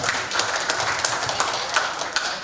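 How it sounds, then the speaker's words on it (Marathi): An audience at a magic show claps for a guest, a steady patter of many hands that holds at an even level from start to finish. "यांच्यासाठी जोरात टाळ्या वाजवायच्या आहेत"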